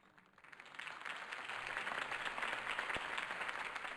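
Applause from a crowd after a mayoral campaign speech in Batman: The Telltale Series, swelling in after a quiet start into a steady, dense wash of clapping that holds through the end.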